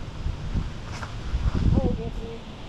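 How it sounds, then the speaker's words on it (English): Strong gusty wind buffets the microphone on a wooded disc golf course, a steady low roar with rustling, while a person talks over it. "there was a lot of wind for such a tight gap"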